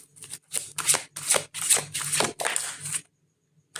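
Tarot cards shuffled by hand in a series of rapid riffling bursts, close and crisp, ending abruptly in silence.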